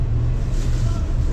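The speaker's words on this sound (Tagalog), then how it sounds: "Yung grass cutter. Naka-on." A grass cutter's small engine runs with a steady, loud, low drone at a building site in Tarlac, heard close and alone.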